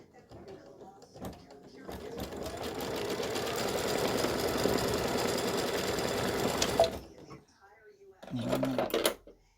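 An embroidery machine stitches decorative quilting hearts on a Valentine gnome mug rug side panel, a steady rapid mechanical rattle running about five seconds at close range, stopping abruptly, with a brief voice before and after.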